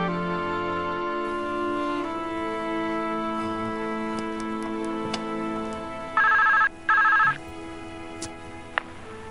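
A telephone rings in two short, loud electronic bursts after several seconds of steady droning tones, then the line falls back to a quieter hum with a faint click.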